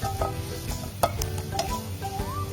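Garlic and vegetables frying in a pan, a continuous close sizzle with stirring clatter and a few sharp spatula knocks against the metal.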